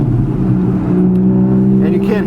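A Porsche Boxster S engine drones close and loud with strong steady harmonics, then its pitch shifts briefly near the end as it revs through a downshift.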